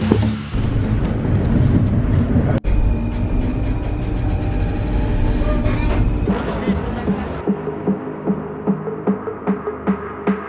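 A Paris metro train runs loud and close, its rumbling, throbbing engine and rail noise rising and fading, with a brief high squeal partway through and rhythmic clacking near the end.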